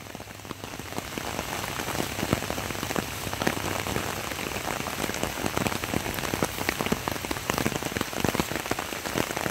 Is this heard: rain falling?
yes